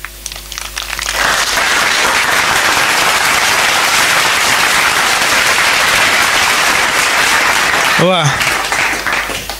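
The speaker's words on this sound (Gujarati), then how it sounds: "આપણે સૌ આ સ્વાગતને તાળીઓના ગડગડાટથી વધાવી લઈએ." Loud, sustained applause from a crowd welcoming an MLA with a bouquet at the inauguration ceremony of an entrance gate, swelling in after a second and lasting several seconds, with a brief voice exclamation near the end.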